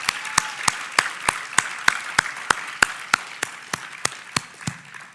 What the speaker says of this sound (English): And I'd really like to give all the members of the organizing committee a round of applause for the work that they put into this.